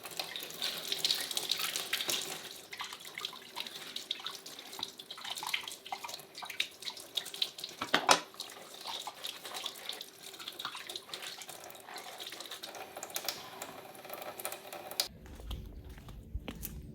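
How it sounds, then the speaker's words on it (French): Makeup brushes being scrubbed and rinsed under a running tap, with steady splashing water and soft rubbing, a brief louder knock partway through, ending in near quiet. "je vais pouvoir frotter mes brosses et terminer de les laver"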